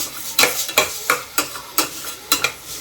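Onions frying in a pan for a beef liver dish, stirred with sharp scraping strokes that land about every third of a second over a steady sizzle, close and fairly loud with no talking.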